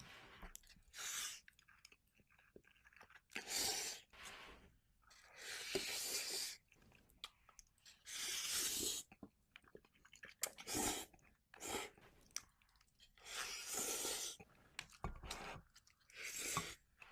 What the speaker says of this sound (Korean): 자, 드디어 완성된 우크라이나식 라면. 과연 맛은 어떨지 제가 직접 먹어보겠습니다.